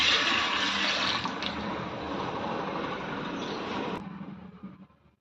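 Water poured into a pressure cooker holding black-eyed peas, a steady, close, rushing splash lasting about four seconds before tapering off into quiet.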